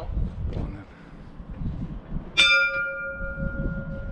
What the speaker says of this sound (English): You ready for me to ring this bell?